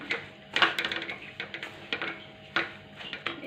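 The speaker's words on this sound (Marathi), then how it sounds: "मी एकूण चार मिनटं मिडियम गॅसवरती हे नारळाचं किस परतून घेतलेलं आहे" Grated fresh coconut is stirred in a pan over medium heat, producing soft irregular scrapes and light clinks of a spoon against the pan, close and fairly quiet, with no talking.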